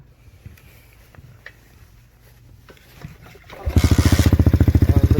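A Coolster 125cc Chinese dirtbike with a broken throttle lever cranks and starts, catching into a loud, close, rapidly pulsing idle after a few seconds of quiet clicks and shuffling.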